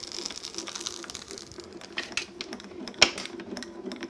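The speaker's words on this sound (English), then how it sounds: "you can hear a little bit of the kind of crunching sound from the ice snow" A craft embossing machine rolling over ice snow material in an embossing sandwich gives faint, irregular crunching and crackling clicks, with one sharper crack near the end over quiet mechanical grinding.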